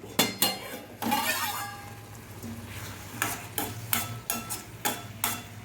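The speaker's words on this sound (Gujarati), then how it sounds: "હવે આપણે હલાવીશું" Ripe banana curry being stirred in a pot on low flame, with a series of close metallic scrapes and clinks of the spoon against the pot over a faint background hum.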